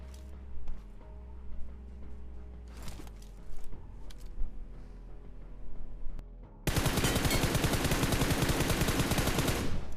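Gunfire erupts in the BGMI battle royale game, starting with scattered in-game noises and occasional shots before a sustained, loud burst of rapid automatic fire fills the last few seconds.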